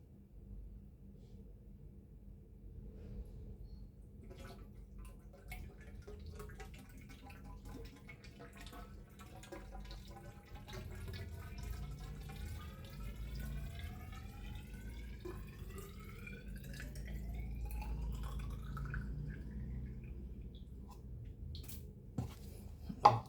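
Water pours into a Sanyo household water pump, a steady low rumbling fill with a rising gurgling tone as the chamber fills, continuous and fairly close, ending with a brief clatter.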